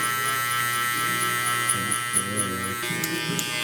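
An electric foil shaver buzzes steadily up close during a taper haircut, its tone wavering slightly as it moves over the head.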